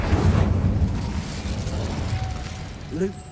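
A fiery spell burst from the Hogwarts Legacy video game, a loud rumbling whoosh at the start that fades slowly, with a short sharp pop near the end.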